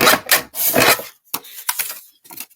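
Paper is trimmed on a paper trimmer for a handmade card: several rough scraping slides of the blade, short and close, separated by brief pauses and a few lighter strokes near the end.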